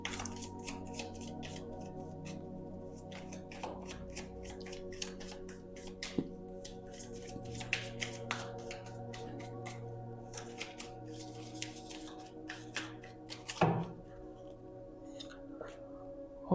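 Tarot cards are shuffled and drawn from a deck in a quiet room, producing soft repeated riffling and flicking, close and fairly quiet, with one sharper snap near the end.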